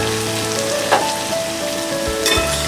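Okra and onions fry in a pan over a medium flame as a steady close sizzle, with a couple of soft stirring scrapes and faint tonal hum underneath.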